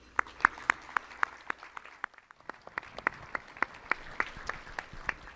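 At an aerospace industry summit, a conference audience gives the sponsors a sparse round of applause, distinct individual claps ringing out in an uneven rhythm, fairly faint and thinning toward the end.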